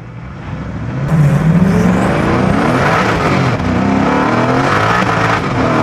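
A Koenigsegg Agera R accelerating hard, its engine climbing loudly through the revs with a rising pitch and a sustained roar heard from close by, alone without talk.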